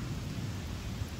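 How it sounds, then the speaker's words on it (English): Thunder rumbling low and steady during a rainy spell at an outdoor work site, a continuous distant roll with a noisy rain-like wash over it, no speech. "Hear that thunder?"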